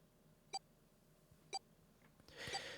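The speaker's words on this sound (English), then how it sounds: "His bracelet gave a cold electronic beep." An electronic bracelet in the Nine Hours, Nine Persons, Nine Doors video game gives two short, faint beeps about a second apart over a quiet background, followed by a brief rush of noise.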